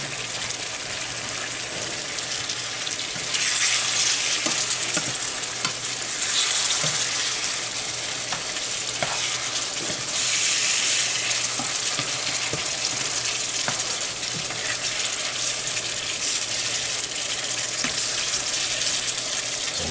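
Shrimp curry bubbles and sizzles in a pan while being stirred, a continuous close frying hiss with scraping strokes and louder bursts of sputtering, no voices.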